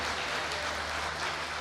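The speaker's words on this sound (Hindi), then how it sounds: "एक बार जोरदार तालियां बजाकर मुझे मन।" Audience applause for a performer on stage at a Holi song event, a brief, dense and even wash of clapping at moderate level.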